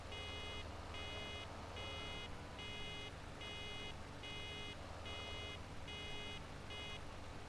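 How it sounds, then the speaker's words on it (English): Repeated electronic warning beeps from a Deutz-Fahr baler in a steady on-off rhythm, about one per second, over loud continuous machinery rumble. "It is very noisy, that beeping."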